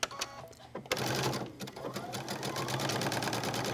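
Sewing machine running a short stitch, a few brief bursts and then a fast continuous mechanical rattle for several seconds, close and fairly loud, with no talking.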